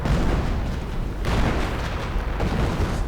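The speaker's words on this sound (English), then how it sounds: "Artillery going in." Artillery fire in a World War II strategy game, a dense rumbling barrage of booms and blasts rolling on continuously and loudly.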